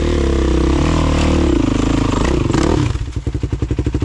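Enduro motorcycle engine roaring loud and close as it accelerates hard up a steep slope, a sustained rev that breaks into rapid choppy pulses near the end as the rear wheel loses grip.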